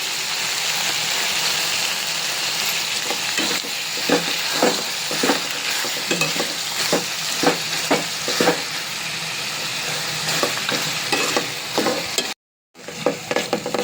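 Tomatoes being stirred into a frying chicken curry, with a loud, dense sizzle throughout and repeated rhythmic scraping strokes of a spoon against the pan, close up, with a brief dropout near the end.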